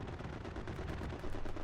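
Rapid strafing-run gunfire in the video game Hell Let Loose, a dense continuous burst of automatic fire and impacts that swells louder near the end, with no voices.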